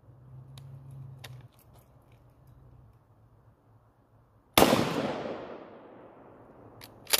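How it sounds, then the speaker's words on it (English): A Mossberg 12 gauge shotgun fires a single mini shell: one loud, close blast partway through that trails off into a fading ring. Quiet handling noise and a short low hum come before it. "So yeah, mini shell first"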